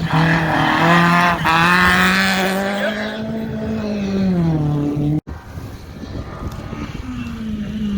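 A Ford Escort rally car engine revs hard nearby, its harmonic note climbing and falling through gear changes, then cutting out abruptly before picking up again at a lower pitch.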